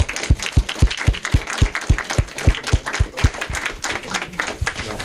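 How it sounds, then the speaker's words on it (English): A small audience at a candidates forum claps in a loose, sparse rhythm, individual hand claps clearly distinguishable and close, lasting several seconds without talk. "at the very least we should give a big round of applause"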